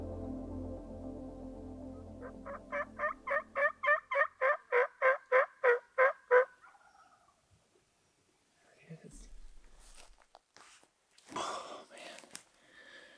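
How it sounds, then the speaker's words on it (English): A wild turkey gobbler gobbles in a rapid rattling burst during a turkey hunt, loud and fairly close, followed by quiet hushed whispering and rustling. "Just had a gobbler responding to any noise I would make"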